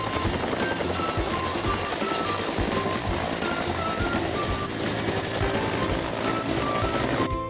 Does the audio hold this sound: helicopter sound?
yes